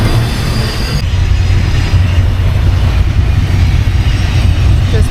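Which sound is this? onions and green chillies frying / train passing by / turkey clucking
train passing by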